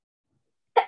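After near silence, a single short, sharp sneeze bursts out close by.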